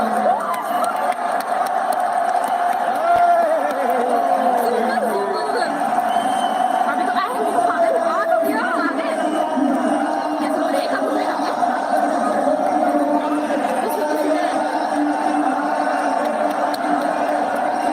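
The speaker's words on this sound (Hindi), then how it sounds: "बड़ी गजब भीड़ है भाई" A large crowd's chatter and cheering from a played video of a political gathering, a steady dense roar of many voices with occasional whoops, continuous and fairly loud for the whole stretch.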